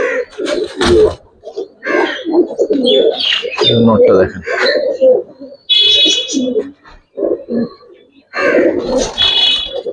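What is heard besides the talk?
Giribaz pigeons cooing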